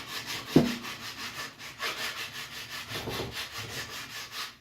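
Steady rhythmic rubbing of sandpaper on a wooden footed arrow shaft, back-and-forth strokes repeating evenly, with a single sharp knock near the start.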